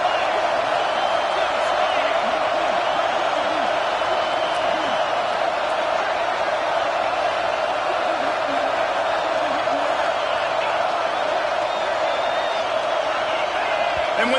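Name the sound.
stadium crowd roaring at football game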